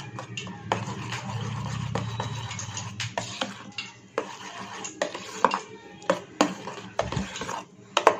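A spoon stirs mango curry mixed with milk in a pot, giving repeated scraping and clinking knocks against the metal at an uneven pace over a low background hum, with no talk.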